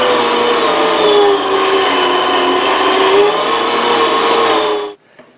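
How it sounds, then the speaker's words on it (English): An electric meat grinder with a medium grind blade runs steadily, grinding a mix of bacon, ham and pork in a loud, continuous motor whine for about five seconds before cutting off abruptly into quiet. "I will be using a medium grind blade on my meat grinder."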